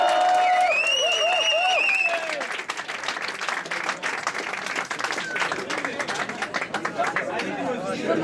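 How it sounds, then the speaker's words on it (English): Applause and cheering for a stand-up comedian at a Christmas comedy show, dense clapping from a close crowd with whoops and chatter, loud at first then settling into scattered claps. "Please, massive, massive, massive, massive round of applause."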